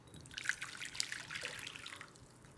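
Hot water is poured onto espresso powder in a small bowl, giving a soft, faint trickling splash for a couple of seconds with no speech.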